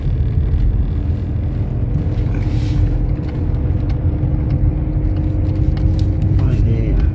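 A car rolls along a country road in the Périgord near a château and its moat, a steady low engine and road rumble, close and continuous, with speech over it.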